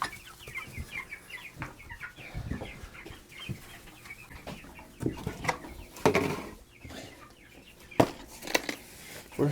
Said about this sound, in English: Look out, thirsty birds.